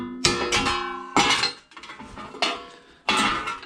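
Hammer blows ring sharply on a Mazda MX5's metal panel as a tuck is shrunk into it, four or five close, metallic strikes spaced about a second apart with no talk.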